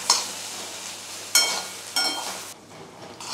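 Raw plantain sautéing in a pan with Kashmiri chili powder and red chili powder, a steady sizzle broken by a few sharp scraping stirs, fairly close, with no voices.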